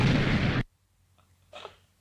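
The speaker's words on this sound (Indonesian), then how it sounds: "Wah, auto meledak sudah, guys." A loud, dense blast opens in a bomb explosion from a meme advertisement, cutting off abruptly after about half a second, followed by near silence and a faint, short rustle later.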